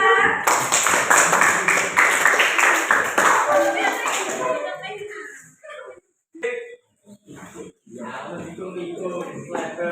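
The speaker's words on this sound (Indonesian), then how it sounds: "Beri tepuk tangan untuk kelompoknya Mbak Cila." A classroom group claps for a presenting team during a teaching performance assessment, loud dense applause for about four seconds that then breaks into scattered claps and voices.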